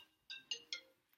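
A mobile phone ringing faintly in a quiet room: three short, evenly spaced electronic tonal bursts followed by a softer fourth blip.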